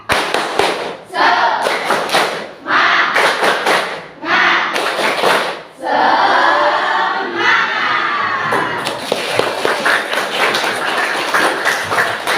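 A class of students performs a rhythmic spirit clap, loud bursts of clapping and thumping in a patterned sequence with short pauses between, ending in a longer stretch of continuous clapping and cheering from the group.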